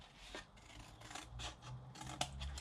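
A finger blade cutting and notching a greeting card for a holiday gift box, close crisp scratchy cutting strokes in irregular short bursts.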